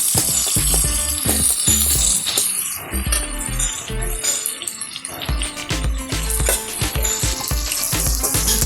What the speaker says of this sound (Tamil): வெங்காயம் நல்லா ஃப்ரை ஆயிடுச்சு